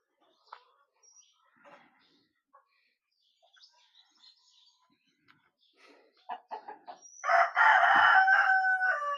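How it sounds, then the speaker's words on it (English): Faint scattered clucks and rustling from native chickens give way to a loud, close rooster crow near the end. "Them little birds, whatever they are, native chickens"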